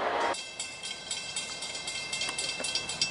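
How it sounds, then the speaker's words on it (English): A CSX freight train passing close by, with rolling rumble and rhythmic wheel clicks over rail joints, plus a brief high screech at the start. "Here comes another train."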